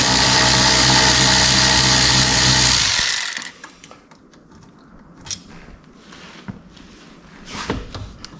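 A power tool removes the towing mirror bolts on a Land Rover Discovery 3/4, with a loud, steady whirring drone for about three seconds that then cuts off, followed by quieter clicks and light mechanical rattling.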